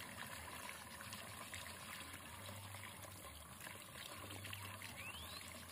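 Water trickling and pouring steadily onto soil while a cornfield plot is watered by hand, a continuous, soft, close stream with no talking.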